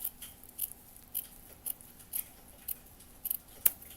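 Scissors snip through fabric while a fluffy square is cut for a miniature room box, giving about eight or nine short, crisp cuts at uneven intervals, close and fairly quiet.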